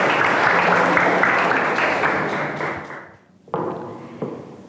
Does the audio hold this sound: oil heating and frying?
no